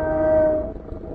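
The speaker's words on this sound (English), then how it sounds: "That's a train." A train passes close by, its horn sounding as a steady sustained tone for about half a second over a broad rumble that then fades into lower rolling noise.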